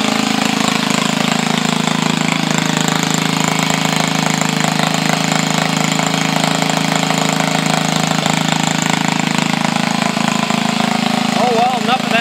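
A small two-cylinder engine, chain-linked and burning off oil through its muffler, runs steadily and loudly throughout, with a constant, even drone.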